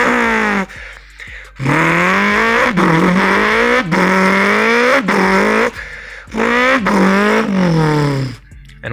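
A human voice imitates a 4G63 four-cylinder engine with the mouth, producing a series of buzzy, rising revs and gear-shift drops separated by short breaths, close and fairly loud with no other sounds.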